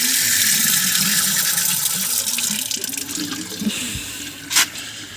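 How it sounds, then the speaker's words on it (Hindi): Cold water running from a kitchen tap into a sink, a steady close splashing rush that thins out slightly toward the end, with a short bright splash near the finish. "तो पानी बहुत गर्म था तो ठंडा पानी, टूटी भी चलाई हुई है"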